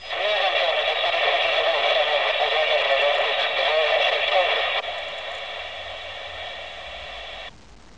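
Loud, steady hiss of static from a President Teddy CB radio with squelch switched off, continuing evenly before dropping in level partway through and cutting out just before the end.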